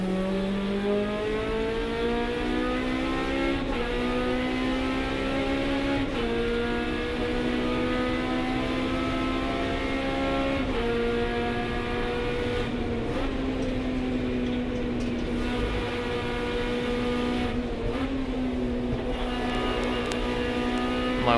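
Hot hatch race cars, a Honda among them, race at Cadwell Park, one engine droning loud and close with rising pitch sweeps and sharp drops at each gear change.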